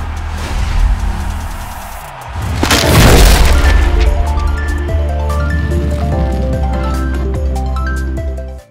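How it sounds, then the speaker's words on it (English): Layered whoosh and impact sound effects for a VFX shot: a rising rush building into a heavy booming hit, followed by a long sustained rumble with tonal ringing that fades out at the end. "we take it even further by adding stronger whoosh and impact sounds to help intensify the effect"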